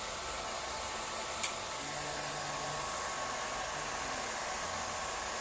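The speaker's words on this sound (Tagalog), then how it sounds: "So, i-blower pa natin siya na konti." A hair dryer blows steadily on hair at close range, a continuous even whoosh that stays level for the whole stretch with one brief click partway through.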